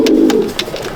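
Old adult Madrasi pigeons coo inside a loft, giving a low, throaty rolling coo that swells at the start and trails off, with a few soft clicks and rustles around it, close and fairly loud.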